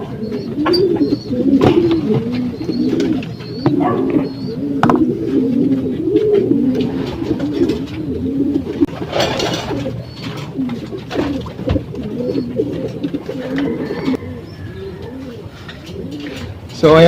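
A parent bird feeds its young, with soft repeated cooing and low throaty calls sounding close and steady throughout, plus a few brief chirps and faint rustling.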